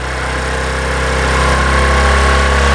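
A Bajaj Discover 100 motorcycle engine revving at high RPM during carburetor tuning, giving a loud, steady, close buzzing drone with a slight rise over a few seconds.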